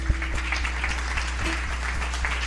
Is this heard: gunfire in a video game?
no